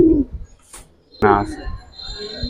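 Green-necked pigeons coo in low, throaty bursts, close by, with a pause between calls and some faint background noise.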